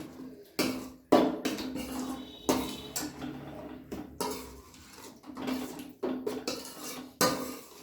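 Yogurt stirred into a Rajasthani gatta curry in a pan on low heat, a spoon scraping and knocking against the metal pan in a steady series of clanks, close and moderately loud.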